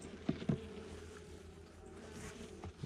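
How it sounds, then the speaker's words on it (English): A soft, steady honey bee drone hums close by in a hive during an inspection, with a few brief thumps and rustles near the start and one more at the end; no voices. "I only got one small pack of bees right in here right now"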